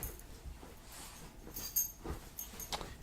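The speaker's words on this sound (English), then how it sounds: "if you hear any like noises or anything, it's my dog. He's trying to get comfortable." A dog shifts around trying to get comfortable, giving quiet whimpers, snorts and rustling movements close by with no talking.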